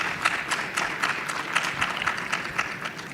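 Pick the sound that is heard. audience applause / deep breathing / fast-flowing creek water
audience applause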